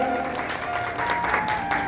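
Brief applause from an audience at a Sahu Samaj community gathering welcoming a newly appointed president, a short, steady wash of clapping with a voice faintly mixed in.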